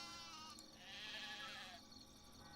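Sheep in the Black and White 2 game bleat in a short, wavering cry over a steady ambient background, faint and alone with no talk.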